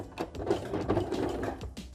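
A sewing machine stitches fabric for wide-leg trousers in short bursts of quick mechanical whirring, with a brief pause between runs, close and moderately quiet.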